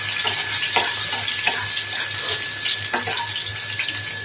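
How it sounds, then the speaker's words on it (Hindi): Steady sizzle of cumin, mustard seeds, asafoetida, turmeric, green chili and ginger tempering in hot oil, close and continuous, with occasional light stirring clinks and small pops over a constant background hum. "जीरा राई और हींग डालकर इसे मैं छौंक दूंगी।"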